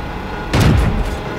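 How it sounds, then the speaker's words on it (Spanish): A heavy booming impact with a metallic clang as a tank shell glances off armor in World of Tanks, over a constant low game rumble. "Ha repelido nuestro disparo"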